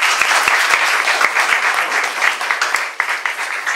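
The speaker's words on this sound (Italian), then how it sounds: "Un applauso ai nostri ospiti." Audience applause for guests at an Italian book talk, dense and steady clapping from a seated crowd filling the short stretch without pause.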